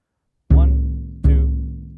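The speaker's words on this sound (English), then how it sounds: "make sure you can play quarter notes at least on your right foot in the bass drum." Bass drum hit with the right foot on a drum kit in steady quarter notes, two loud, deep, booming thumps that ring out and decay, heard alone.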